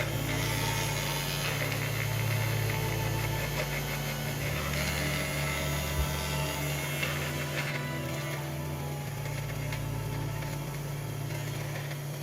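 An electric nail file with a pointed tip works around a toenail and its cuticles, giving a steady, close motorized whir with a low hum that runs unbroken for the whole stretch.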